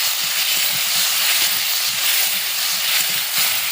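Poppy seed and green chili paste fries hard with mango pieces in a pan, a loud, dense, continuous sizzle and hiss with faint low clatter underneath.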